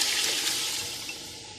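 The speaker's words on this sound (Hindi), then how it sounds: "अब हम इसके अंदर यखनी ऐड करेंगे।" Strained mutton stock pours into a cooking pot with a steady, close liquid splash and rush, fading slightly over under two seconds.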